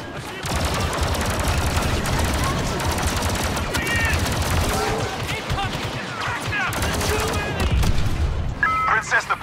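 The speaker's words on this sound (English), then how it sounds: "Keep them away from the gates and don't stop firing." Blaster fire crackles nonstop in a Star Wars Battlefront II battle at a gate, with dense overlapping shots, booms and impacts filling the scene loudly throughout.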